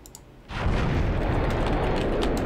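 A cannon firing an explosive charge in a Minecraft battleship game: after a quiet half second, a loud blast erupts and rolls into a sustained, rumbling explosion that keeps roaring to the end.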